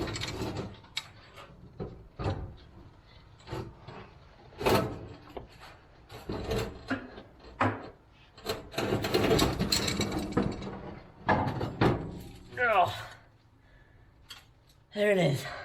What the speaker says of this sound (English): Now we got to take out these 3 bolts